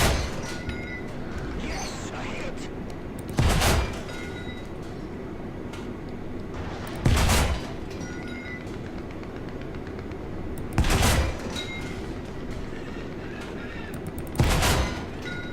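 Tank cannon fire in the War Thunder video game sounds as four heavy, evenly spaced blasts, each followed by a short roar over a constant engine rumble, with no talking.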